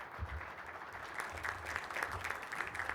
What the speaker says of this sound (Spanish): con el aplauso de todos ustedes si son tan amables